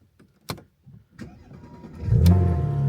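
A 2018 Porsche Panamera 4S with a 3.9L biturbo V6 starts up through a remote starter: a few faint clicks, then a brief starter whir and a close engine catch that swells into a steady, loud idle.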